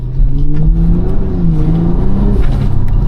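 A BMW G45 X3 M50 engine revs close by in a loud, continuous tone whose pitch rises and dips, with exhaust let-off, heard alone without talk.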